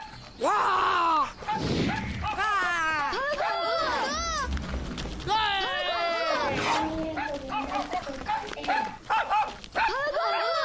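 A dog barks and yelps repeatedly in excited bursts, loud and close, with people talking and shouting over it.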